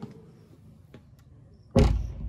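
A door in a house in Kampala, Uganda, is opened: a few faint clicks and taps, then a loud close thump and rattle near the end.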